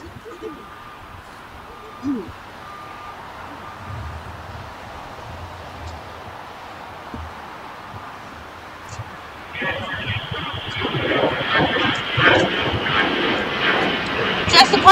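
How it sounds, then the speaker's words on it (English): An American Airlines Airbus departing LAX, its engine roar building sharply partway through and staying loud and broadband, with a faint earlier rumble of distant aircraft beforehand. "Just departing here on the 250 at LAX is American Airlines Flight 2024, very appropriate, back to DFW, Dallas, Texas on an Airbus"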